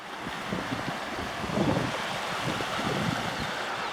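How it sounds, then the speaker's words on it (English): The Susan River flows along the Bizz Johnson Trail near Susanville, among green growth and rock formations. It makes a steady, fairly faint rushing wash that carries on evenly, with no voices. "And here's the Susan River."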